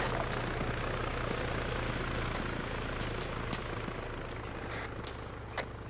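A video game helicopter's rotor thrums steadily and loudly throughout, a continuous chopping drone with a few faint clicks over it.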